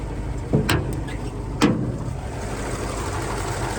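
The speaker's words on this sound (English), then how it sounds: "That straight 8, known as the Silver Streak 8-cylinder from Pontiac." A 1951 Pontiac Chieftain's Silver Streak straight-eight engine idling with a steady low rumble, marked by two brief louder surges early on, heard close and continuous throughout.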